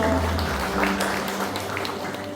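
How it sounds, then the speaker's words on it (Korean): Audience applause welcoming a provincial vice-governor to the stage at a ceremony for a newspaper's 80th-anniversary photo exhibition at the Daegu Culture and Arts Center. It is a steady, dense wash of clapping that runs the whole time. "여러분 따뜻한 박수 좀 보내주십시오"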